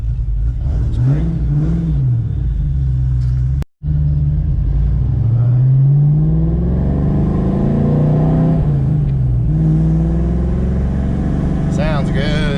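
A Foxbody Mustang V8 with 3.27 gears accelerates on the street, its engine rumbling loud and close through rising and falling revs across several gear pulls, with a brief dropout early on.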